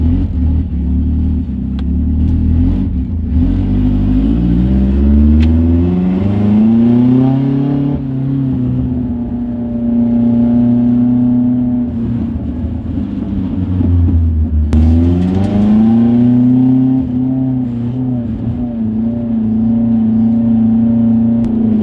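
A Hyundai Genesis Coupe engine revs repeatedly while backing out, loud and close, its pitch climbing and falling in two long swells over a rumbling idle.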